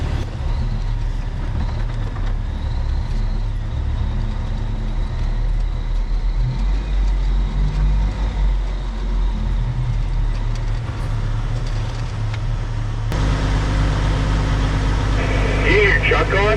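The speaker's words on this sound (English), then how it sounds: "You hear your truck, Austin?" A truck engine runs steadily at a low idle, its deep hum constant throughout and growing louder and rougher toward the end, with speech heard over it at times.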